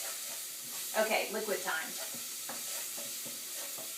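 Garlic and ginger sizzle softly in a pan as a spoon stirs them, with brief scraping stirs over a steady faint frying hiss while a voice speaks briefly.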